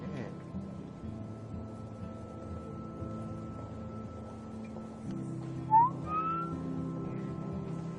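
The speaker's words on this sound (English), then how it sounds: "Sorry guys for the whistling." A person whistles a short, bright melodic phrase over soft background music with sustained tones from the game Life Is Strange, the whistle rising briefly above the mix.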